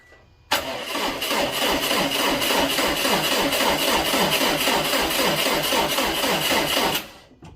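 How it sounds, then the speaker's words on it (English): A Subaru engine cranks during a power steering fluid flush with a steady, rhythmic churning for several seconds, loud and close, then cuts off abruptly. "we'll crank the engine, get this thing all pressured up"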